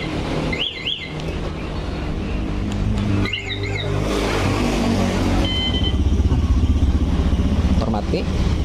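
A Honda Beat Pop scooter engine runs after a remote start, a steady close putter that builds louder toward the end, with short electronic alarm chirps and talk over the start.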